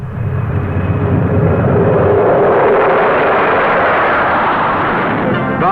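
An airliner takes off from Heathrow in 1970, its jet engines a loud, sustained roar that builds and holds steady throughout, with no voices over it.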